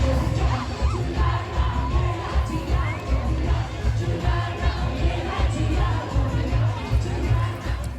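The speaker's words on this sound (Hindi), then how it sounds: "बहुत भीड़ थी यहाँ पर" A dense crowd at a Navratri Dandiya Garba event in Dwarka, Delhi, a continuous loud wash of overlapping voices, shouts and cheering close by, with music faintly underneath.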